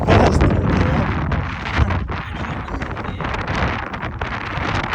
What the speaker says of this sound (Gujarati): જરાક હવા જો કેટલી મસ્ત હવા આવે છે યાર